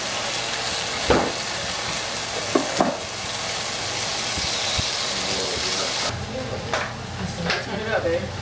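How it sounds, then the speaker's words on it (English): Meat sizzling on a hot, smoking Korean BBQ griddle at home, a steady broadband hiss and crackle with a few sharp pops, close and continuous, while people talk over it. "Then I have to put my meat on there now because I can see it smoky."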